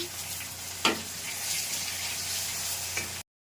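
Garlic, ginger and onions fry in a pan with a steady, close sizzle, broken by a few sharp clinks and scrapes of stirring.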